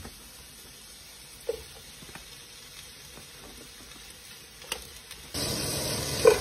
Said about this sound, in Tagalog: Mix naman natin ang ating mushroom.